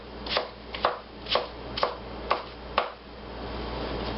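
A knife chops sliced tomato and toppings for meat loaf in six steady, evenly spaced close chops, followed by a quieter pause.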